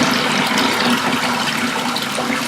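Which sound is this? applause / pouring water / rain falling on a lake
pouring water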